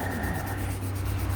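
Steady rough rubbing of sandpaper on a surface, close and continuous, with a low hum underneath.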